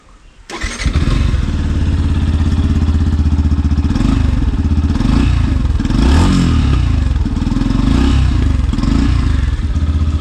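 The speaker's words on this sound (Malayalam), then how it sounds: "പ്ലസ് അപ്പോൾ നമുക്ക് ഇവൻ്റെ എക്സോസ്റ്റ് നോട്ടോടൊന്ന് കേൾക്കാം" A 2022 Yamaha FZ-S Deluxe motorcycle fires up close by, settling into a throaty, bassy exhaust burble and then blipping the throttle in a few revs before returning to a steady idle.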